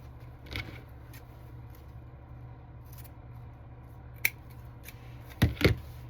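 Scissors cut close by: one snip early, another a few seconds later, then a quick pair of louder crisp snips near the end, with quiet pauses between.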